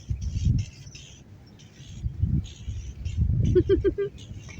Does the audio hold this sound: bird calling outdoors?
yes